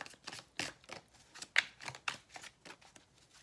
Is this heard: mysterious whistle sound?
no